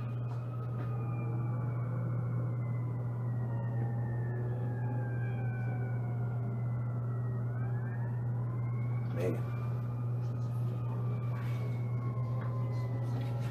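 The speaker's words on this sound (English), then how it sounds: "There goes another ambulance up there." Several emergency sirens wail and sweep in pitch at a distance, overlapping one another over a steady low hum, ambulances passing one after another near a Hooters restaurant.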